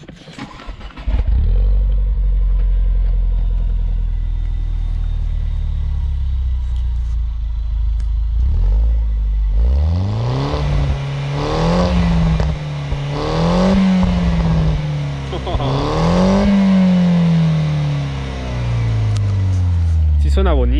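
A Mini Cooper S turbo engine idles low, then revs up repeatedly in rising and falling surges, loud and close, with a voice speaking at times.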